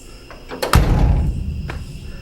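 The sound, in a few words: classic truck door shutting with Altman Easy Latch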